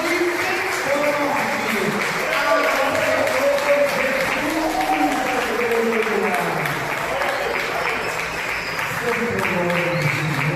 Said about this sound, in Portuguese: Agora eu convido a igreja a aplaudir bem forte.